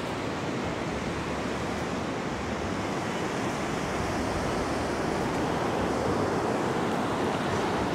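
Surf washes in at the water's edge on the beach at Isle of Palms, South Carolina. It makes a constant loud roar with wind buffeting the microphone, and no one speaks.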